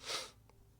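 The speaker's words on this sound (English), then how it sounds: "you're very animated with your sneezes" One short, breathy sneeze close up, a sharp hissing burst followed by a faint nasal snort, quiet background hum.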